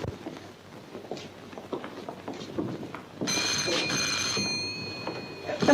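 An old-fashioned telephone bell in a Hindi film scene rings loud and sustained after about three seconds of muffled background movement and faint voices, its bright metallic trill holding steady to the end.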